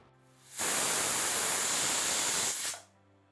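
A pressure cooker on high flame, cooking Kerala-style kootu curry, lets off a loud, steady hissing blast of steam for about two seconds, rising and cutting off sharply, with no talk.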